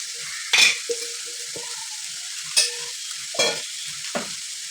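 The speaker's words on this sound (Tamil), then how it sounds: "அதை லைட்டாக இப்படி கிண்டி விடணும்" Red-stemmed amaranth greens sizzle softly in a pan while a utensil scrapes and stirs in a few sharp, spaced strokes.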